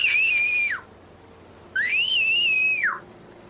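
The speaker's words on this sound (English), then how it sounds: "If you want, I could whistle right now for you." Two loud, sustained human whistles, each rising then holding a high pitch before dropping off, with a short quiet gap between them.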